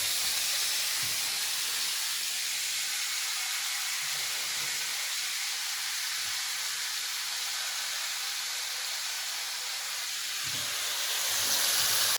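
Steady, loud sizzling hiss of meat frying in a hot pan until golden, continuous throughout with occasional faint pops and no talking.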